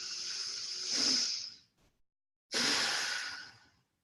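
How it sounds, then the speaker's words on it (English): A person takes a deep, long inhale through the nose, a soft airy rush of breath lasting over a second, then a pause and a second long breath drawn in close to the microphone. "Feel your whole body expand as you breathe in the deep, powerful, long inhale."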